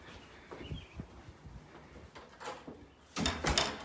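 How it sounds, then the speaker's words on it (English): The front door of a house is shut with a few soft bumps and rattles, then ends in a louder close thump, heard nearby indoors with no one talking. "I just want to close the front door."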